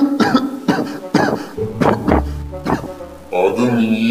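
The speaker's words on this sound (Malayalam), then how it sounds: "രണ്ടീ സൈഡ് ചെറിയൊരു ചുമയും ശ്വാസമുട്ടനും പോലെ" Several harsh, close coughs come in quick bursts with throat-clearing from an animated character in a Malayalam cartoon web series, ending in a voiced, throaty sound.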